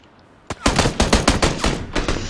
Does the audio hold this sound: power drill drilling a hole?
no